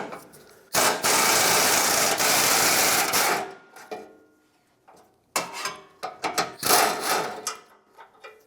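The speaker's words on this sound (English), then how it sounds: "Now let's remove the bolt that holds the center piece to the corner piece on the passenger side, 12mm socket." A ratchet fitted with a 12mm socket loosens a bolt holding the passenger-side rear bumper end pieces together on a 1996-2002 Toyota 4Runner. It makes a long, close, raspy clicking run, then pauses, followed by several shorter bursts of ratcheting.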